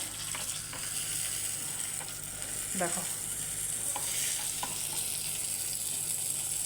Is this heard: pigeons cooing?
no